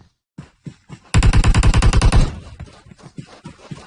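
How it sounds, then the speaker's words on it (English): Rapid automatic gunfire from BGMI during an esports match, a loud burst of about a dozen evenly spaced shots preceded and followed by scattered single shots and softer in-game action noise. "he's getting shot and he's down and he has been killed"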